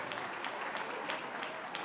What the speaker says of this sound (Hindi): तालियां जोरदार, इन बच्चों ने बहुत अच्छा प्रस्तुत किया है